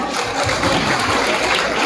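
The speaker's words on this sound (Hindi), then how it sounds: "तांको पई टिके जोरदार करताली हे जाऊ" A crowd at a jatra stage event breaks into loud, dense applause, many hands clapping together in a continuous roar with no pauses.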